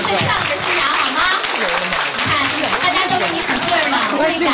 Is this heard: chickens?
no